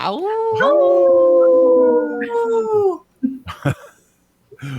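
People howling like wolves: voices imitate a long, sustained, wavering wolf howl that fades out, followed by a few short yelps and quiet pauses.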